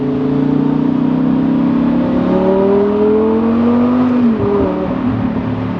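Audi R8 engine accelerating, its pitch climbing steadily, dipping sharply through a gear change, then pulling up again; a loud, close, continuous engine note with no talk.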